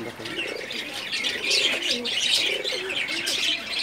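A black-necked pigeon with black feathers and tail cooing in short repeated calls close by, with chirps mixed in and a voice talking nearby.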